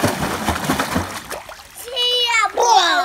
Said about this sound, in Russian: покажи, как ты плаваешь.